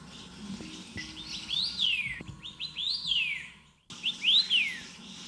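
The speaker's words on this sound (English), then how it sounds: "Listen to that whistling sound, which is from the Taiwan cibia." A Taiwan cibia sings in a forest recreation area with clear rising and falling whistled phrases, repeating several times at moderate distance over faint background rustle.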